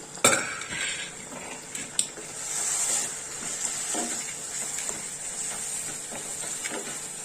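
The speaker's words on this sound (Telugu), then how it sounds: "పోసుకొని ఒకసారి బాగా కలుపుకున్నాం" A spoon stirs mutton curry in a metal pot after the meat's cooking water has been poured in, making steady scraping and clinking against the pot over a continuous wet bubbling hiss, with sharper clinks near the start.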